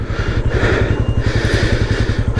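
A long-stored Falcon Freedom 250 motorcycle, running on a weak battery, chugs into life with a close, steady rapid thumping of its single engine at a rough idle, and nothing else competes with it.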